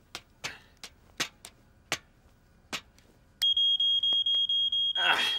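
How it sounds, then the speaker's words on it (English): An animated smoke alarm is tested after a few sharp knocks, then shrieks in a loud, evenly pulsed series of high beeps that continue to the end. "Now we can see to test the smoke alarm."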